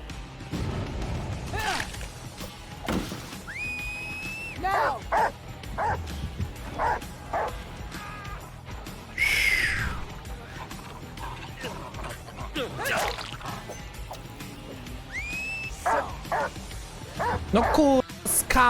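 A dog barks and yips in short bursts in the Dead by Daylight video game, over game sound effects and mechanical clicks, with a person talking at times.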